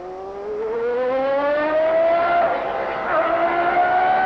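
A Formula 1 car with a C-Spec Mugen Honda V10 engine pulls away slowly at the Italian Grand Prix, its engine note rising steadily in pitch as it accelerates, loud and continuous.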